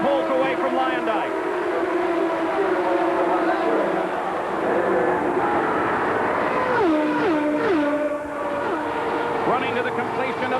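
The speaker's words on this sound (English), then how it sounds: "Boesel continues to accelerate and pulls away from Luyendyk." Indy race cars at the 1993 Indianapolis 500 scream down the track, their engine notes rising and sliding in pitch as they accelerate, loud and continuous, under a commentator's voice.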